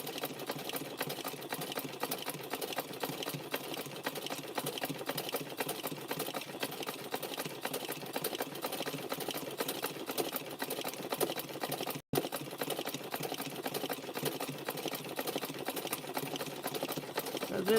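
A sewing machine runs steadily, stitching with blue serger thread and a used needle, its motor whirring evenly throughout with a brief cut near the end, while a person speaks softly over it.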